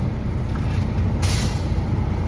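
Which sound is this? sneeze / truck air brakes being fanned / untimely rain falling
truck air brakes being fanned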